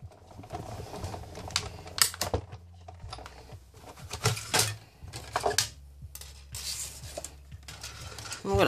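A sheet of shrink plastic is cut by hand with a blade, giving irregular close-up clicks, scrapes and soft crackles in short bursts.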